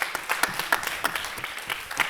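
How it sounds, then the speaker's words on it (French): Brief applause from a small group during a quiz game, a short burst of scattered claps that are fairly close and moderate in volume. "Bravo, on peut l'applaudir."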